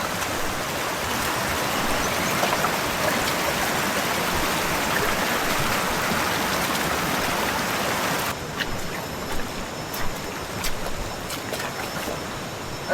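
A stream flows along a hiking trail toward the Jeram Berungut waterfall, a close, continuous rushing of water that eases slightly partway through, leaving lighter splashes and drips.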